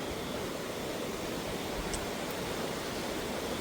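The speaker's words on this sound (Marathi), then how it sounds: "कसलं पाणी आहे बघा की" Flood water rushing through a village during the rainy season, a steady loud broadband roar with no break.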